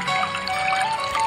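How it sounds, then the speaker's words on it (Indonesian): Water trickles steadily from a restaurant fountain and miniature waterfall, a continuous bright splashing wash with no music or talk over it. "hanya terdengar suara gemercik air aja, seperti air mancur dan ada miniatur air terjun"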